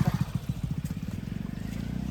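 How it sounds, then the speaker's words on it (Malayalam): A motorcycle draws near on a road during a friends' trip in Kushalnagar, its engine puttering in quick regular pulses that smooth into a steadier drone as it closes in. "ബൈക്ക് വരുന്നത്"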